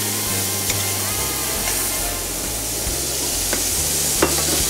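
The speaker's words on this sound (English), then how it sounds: "We're gonna sear these babies really good." Meat sears in a hot oven-safe pan with chili, a loud continuous sizzle and crackle close up, with a few sharp pops and faint stirring noises, no talking.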